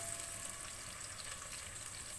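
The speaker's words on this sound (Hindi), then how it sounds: "प्याज को अच्छा गोल्डन होने तक फ्राई करेंगे।" Sliced onion fries in oil for beef tahari, a soft, continuous hiss of sizzling close by with no other sounds or voices.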